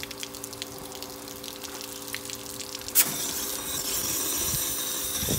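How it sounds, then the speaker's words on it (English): Compressed air forces cold water out of an RV shower head during winterizing. A trickling, running-water sound gives way to a sudden loud burst, then a harsher, sustained rush of spraying water and air. "Now we're blowing cold water out of this shower head."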